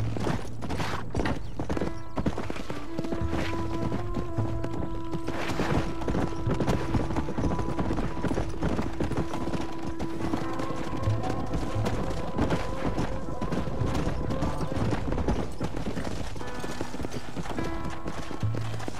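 Horse hooves clip-clop steadily through a Red Dead Redemption ranch scene near the stable and pen, a continuous trotting rhythm under game music, with a brief whinny and occasional thuds.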